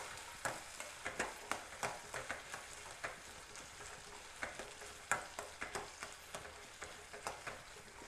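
Manathakkali berries, onion and garlic fry in a pan, with a steady sizzle and repeated sharp scrapes and clatters of stirring at a moderate, close level and no talk.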